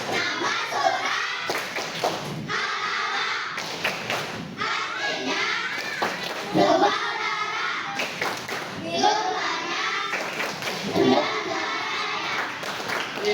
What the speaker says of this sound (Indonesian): Tepuk Al-Alaq.